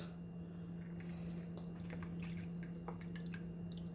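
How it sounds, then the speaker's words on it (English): Great Value soy sauce poured from a bottle into a bowl for orange chicken, a soft trickling liquid stream with small drips and splashes, quiet and close over a low hum. "You're just going to pour that"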